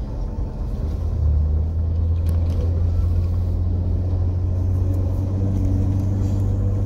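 A car driving on snow-covered roads, a steady low engine and tyre rumble heard from inside the vehicle, constant and fairly loud with a droning hum, no talking.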